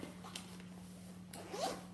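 The small zipper on a bag's pocket gives two quick, quiet rasping pulls, a short one near the start and a longer one toward the end, close up in an otherwise hushed room.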